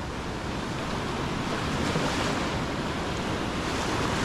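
Ocean surf on the beach at Playa del Carmen, a constant loud wash of breaking waves mixed with wind noise, close by and unbroken throughout.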